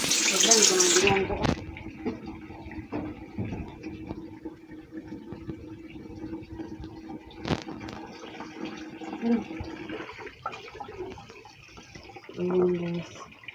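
A household tap runs water into a sink in a home, a steady close splashing stream with clatters and knocks, and someone speaks over it at times.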